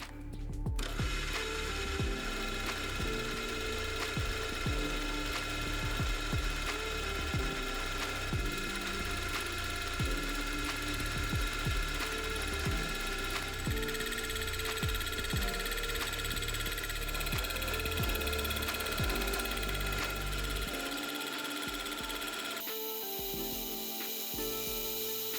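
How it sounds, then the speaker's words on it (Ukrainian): Milling machine cutter working a Т-150 tractor gearbox housing, a steady loud grinding, chattering machining noise with a rhythmic ratcheting pulse that runs throughout and drops lower near the end. "Встановлюю фрезу в шпиндель фрезерного і починаємо обробку."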